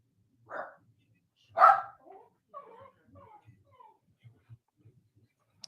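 A dog gives two short barks close by, then trails off into soft whimpers and small yips, with faint sounds between.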